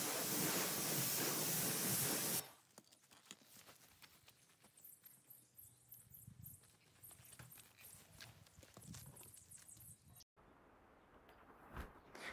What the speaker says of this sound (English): to remove the loose dirt with pressure washing.